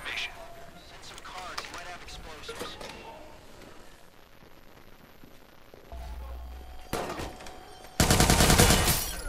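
Gun shots and automatic bursts from Watch Dogs 2 come in clusters over game ambience, building to a loud sustained volley near the end, with a voice speaking briefly between.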